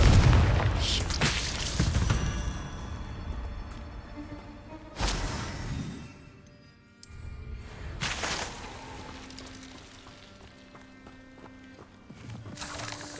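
Booming bursts from the Confringo explosive spell in the video game Hogwarts Legacy, several sharp blasts spaced over the clip with footsteps and other game noise between them.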